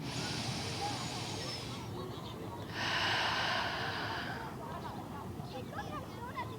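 Deep, breathy inhale drawn in during a Pilates core-breathing exercise, a close hissing breath of about two seconds repeated twice over a quiet room background.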